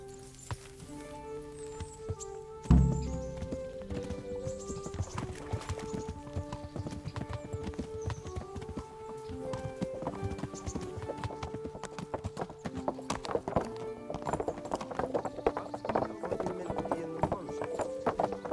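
Horse hooves clip-clop steadily as a rider travels in a medieval role-playing video game, a close, rhythmic pattern under ambient game music, with a sharp thud early on and a neigh among the steps.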